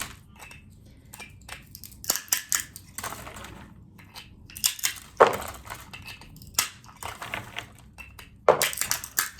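Walnuts being cracked by hand at close range, with repeated dry crunching and snapping of shells in irregular bursts, plus scattered rattles of shell pieces and short quiet gaps, no talk.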